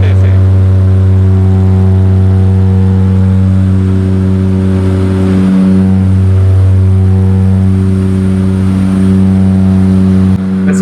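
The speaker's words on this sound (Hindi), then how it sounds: "भाई साहब साउंड बहुत जोरदार आ रहा है इस इंजन का, बहुत जोरदार" A passenger airliner's engines drone loudly and steadily in flight, heard from inside the cabin with a strong continuous low hum throughout.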